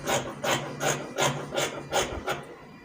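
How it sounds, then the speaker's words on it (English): Scissors trim fabric edges for a dress collar in a run of about seven evenly spaced, close rasping cuts, each a short scratchy swish with no voices. "I just want to trim the edges to make it equal."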